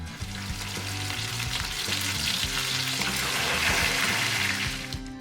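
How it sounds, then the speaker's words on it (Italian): Agnolotti sizzle in brown butter in a pan, with a loud, continuous crackling fry throughout and occasional stirring. "non appena vengono a galla li tuffiamo in una padella insieme del burro nocciola"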